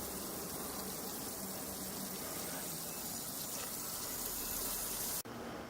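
Steady rushing water pours out continuously at close range, a broad, even hiss that holds level before cutting off abruptly near the end.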